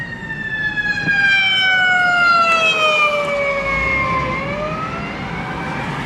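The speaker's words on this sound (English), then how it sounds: "I guess it's an ambulance coming this way" An ambulance siren wails in rising and falling tones as it passes on a Southwest Detroit street, its pitch dropping as it goes by, with traffic rumbling underneath.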